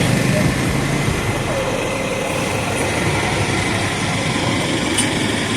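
A row of full buses idles on a city street, a dense, steady low engine rumble with traffic noise layered throughout, close and loud.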